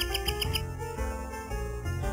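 In the video game Sakura Wars V, a character's voice imitates a bird with a quick run of about five high chirps over steady background music, then falls silent.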